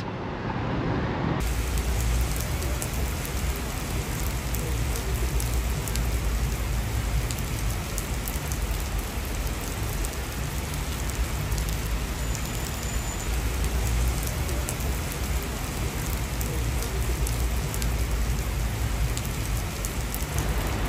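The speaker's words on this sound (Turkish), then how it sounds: "Geldik, yağmur yağıyor arkadaş." Steady, heavy rain pours down continuously in Belgrade, Serbia, a dense wash of drops hitting surfaces with no pauses and no voices.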